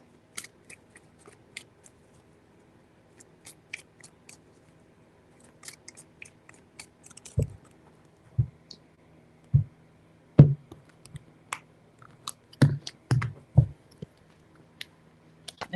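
Tarot cards are shuffled by hand in a quiet room, with scattered soft taps early on and then a run of sharper card snaps and clacks toward the end.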